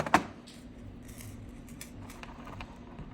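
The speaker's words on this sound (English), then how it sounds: "And then I'm going to cut off the excess." A single crisp snip of small cutters or scissors trimming excess wire while making a sea-glass-style pebble necklace, one quick near cut at the start followed by a faint quiet room.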